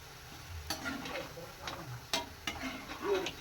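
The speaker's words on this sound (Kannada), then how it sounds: "ಎಣ್ಣೆ ಚೆನ್ನಾಗಿ ಫ್ರೈ ಆಗಿಬಿಡ್ತದೆ" Chow chow mixture snack, a North Karnataka crispy savoury, fried in hot oil, giving a steady soft sizzle with scattered sharper crackles and pops, close up and fairly quiet, with no voices.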